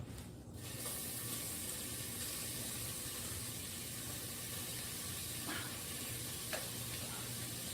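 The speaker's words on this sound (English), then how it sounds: "Cook the bacon." Bacon frying in olive oil in a pan, a steady close sizzle with faint crackles and a few brief clinks over a constant hiss.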